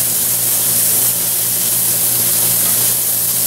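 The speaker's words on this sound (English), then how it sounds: "we're just cooking this pancetta down, getting it nice and crisp where you want it" Pancetta frying in a pan until crisp, giving a loud, steady hissing sizzle that continues without a break, close up with a faint low hum underneath.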